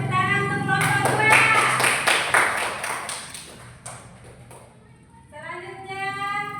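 Children in a classroom clap for a student group that has just finished presenting, a short burst of scattered hand claps over several seconds under speech.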